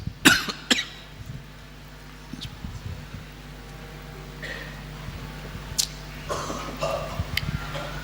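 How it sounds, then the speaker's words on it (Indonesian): A couple of short coughs ring out near the start against a quiet room hum during a religious lecture, followed by faint scattered noises. "Siapa itu yang ikut batuk juga?"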